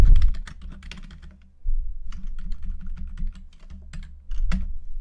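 Steady computer keyboard typing while naming a Paper Flipbook during a game-engine UI animation setup, rapid clustered keystrokes with short pauses, close and moderately loud, no voices.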